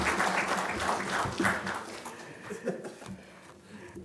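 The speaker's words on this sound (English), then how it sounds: "And now we will give these speakers a round of applause." An audience at a panel discussion on autonomous vehicles and safer vehicles applauds the speakers, with a burst of clapping that gradually fades over a few seconds.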